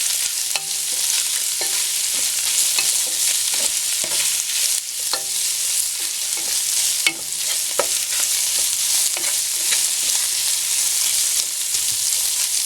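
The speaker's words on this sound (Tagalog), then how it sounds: "fry natin hanggang medyo mag-brown lang ng konti yung pork." Pork seasoned with black pepper and salt sizzles steadily in a pan for pancit bihon, with occasional clinks and scrapes of stirring over the continuous frying hiss.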